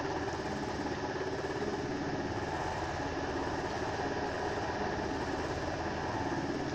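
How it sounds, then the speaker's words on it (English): A UH-60L Black Hawk helicopter in a flight simulator game set over Manhattan, heard from outside. It gives a dense, continuous rotor and turbine roar that stays steady and fills the whole span, with no talk. "This is what the helicopter sounds like from the outside."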